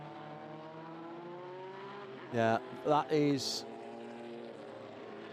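Group C Nissan race cars run at the Spa Classic, heard as a steady, far-off engine drone with a rising pitch, interrupted by a short burst of nearby talk.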